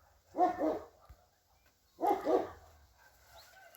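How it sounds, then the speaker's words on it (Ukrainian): A dog indoors gives two sharp barks about a second and a half apart, fairly close and moderately loud, with quiet between them. "Що то за собака така? Мала спить, вона гавкає."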